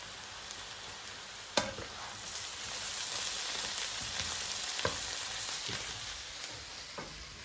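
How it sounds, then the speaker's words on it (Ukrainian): Onions and mushrooms fry in a pan for a chicken roll filling, giving a steady soft sizzle throughout with a few sharp clicks of stirring utensils against the pan. "Цибулька буде золотиста, грибочки теж підсмажаться."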